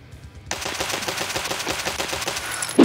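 Pistol in Escape From Tarkov firing very fast, a rapid even string of sharp shots starting abruptly after a brief quiet moment, loud and close with no talking.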